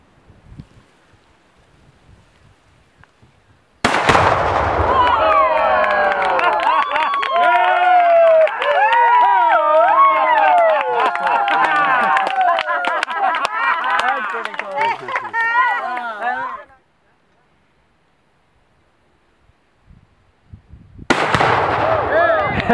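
An outdoor Tannerite target erupts in a sudden loud blast after a rifle shot, followed by a long stretch of excited shouting voices. A second sharp blast bursts in near the end.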